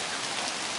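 Steady rain pours outdoors during a frisbee game, a dense, even hiss of drops striking surfaces with no pauses and no voices.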